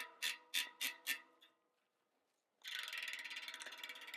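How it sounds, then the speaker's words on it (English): Rear hub freewheel of a Specialized S-Works bicycle ratcheting: four distinct spaced clicking bursts, a pause, then a fast continuous buzzing ratchet as the wheel spins freely, close and clear. "And that ratcheting sound, well, that is the sound of the S-Works hub"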